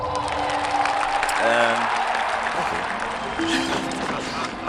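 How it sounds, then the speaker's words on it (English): Crowd applause and cheering swell loudly in the video game Zeus, with musical tones and other game sounds layered over the noisy clapping throughout. "blast of applause there"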